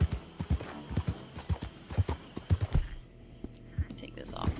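Horse hooves in Red Dead Redemption 2 clop in a steady, close rhythm along with a whinny, while a person talks quietly over the game sound before the hoofbeats thin out.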